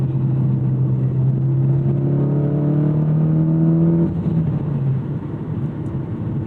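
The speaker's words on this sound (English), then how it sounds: "And that engine note very much front and center" A 2014 Mitsubishi Lancer Evolution X engine revs hard through short gears, its harmonic drone rising steadily for about four seconds before a shift drops the pitch and it pulls again, close and loud with no talk.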